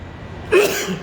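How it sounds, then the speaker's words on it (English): A single sharp sneeze bursts out nearby after a brief quiet moment, followed by a short breathy tail. "hold on, I have to sneeze off camera"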